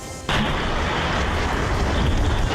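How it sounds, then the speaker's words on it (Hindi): A sudden heavy blast from a bamboo firecracker gun bursts in after a brief quiet moment, then a loud, sustained rumbling roar continues nearby. "bamboo gun"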